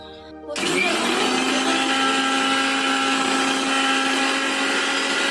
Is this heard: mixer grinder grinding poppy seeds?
yes